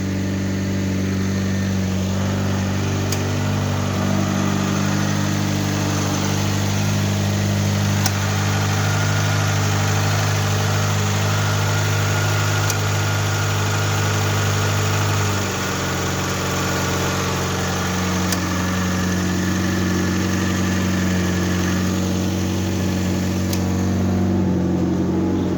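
A Citroën BX 14 E's engine idles steadily just after a cold start, a close, continuous low drone whose pitch steps down slightly about halfway through as the idle settles, with no voices over it.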